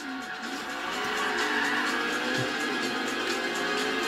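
A rally car's engine strains at high revs while sliding through corners in Forza Horizon 3, with a sustained whining drone and a steady tire-scrubbing roar, loud and close with no talk.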